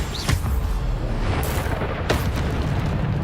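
Bombarda explosion spell going off in Hogwarts Legacy, a loud rumbling blast with a few sharp bursts over a dense, continuous roar that fills the whole moment.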